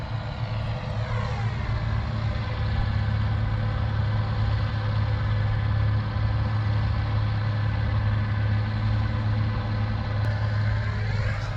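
Andoria diesel engine on a combine harvester working a grain field at harvest, a loud, steady low drone with a constant hum and mechanical rattle, no voices.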